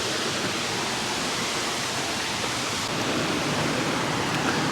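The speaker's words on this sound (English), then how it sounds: "And it's just a big falls behind there. Wow. This water is just pumping." A big waterfall on a mountain walk, with fast water swollen by fresh rain, roars as a steady, loud, full rushing wash that never lets up, with no voices over it.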